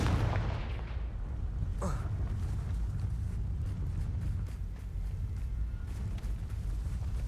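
Fire-blast spell explosions from Hogwarts Legacy burst out one after another: a sharp crackling blast near the start, then a bright whooshing burst, followed by a dull rumbling roar that carries on under scattered pops.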